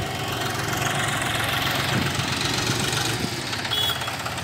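A John Deere 5036 tractor fitted with a loader idles steadily with no load, a continuous low diesel rumble with slight knocking texture, close and unbroken throughout.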